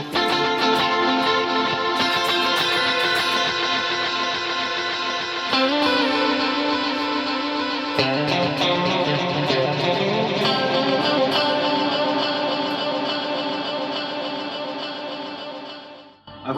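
Electric guitar played through a BOSS GT-10 multi-effects unit with a big hall reverb, heard as sustained, heavily processed distorted chords and ringing notes with a wide, washy tail that fades out at the end.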